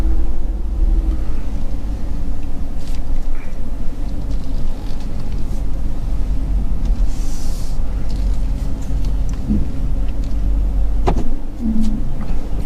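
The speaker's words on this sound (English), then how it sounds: "Oh, here comes a car." A car drives toward the listener on a road near the old Route 66 bridge at Devil's Elbow, a steady low rumble of engine and tires that holds throughout with faint outdoor background.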